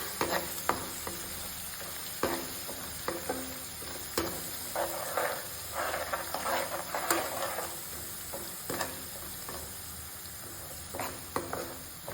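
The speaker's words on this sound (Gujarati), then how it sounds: "બ્રાઉન કલર આવે ત્યાં સુધી આપણે થોડી વાર એને સાતળશું." Vegetables for a spicy Surati Mysore bhaji sauté in a pan with a steady, fairly quiet sizzle, broken by scattered clicks and scrapes of a stirring spoon against the pan.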